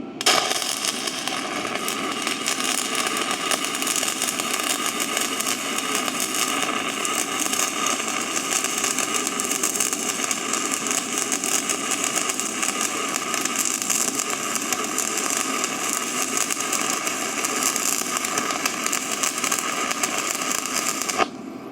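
A budget welding machine laying a weld, giving a steady, dense crackling buzz that runs loud and unbroken for about twenty seconds with no talk.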